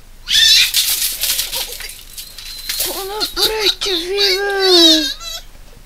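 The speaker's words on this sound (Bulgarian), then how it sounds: "Котката иска и тя бе" A cat meows indoors with several drawn-out, wavering cries in the second half, each rising and falling in pitch, following louder mixed voices and laughter at the start.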